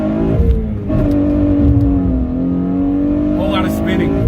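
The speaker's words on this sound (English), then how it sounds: "we're gonna do a first gear roll, traction control off, probably gonna spin a little bit, and then we'll grab second" Hyundai Genesis Coupe fitted with an Injen intake, traction control off, accelerating hard in first gear with its tires spinning. The loud, close engine drone climbs steadily in pitch with a harmonic whine.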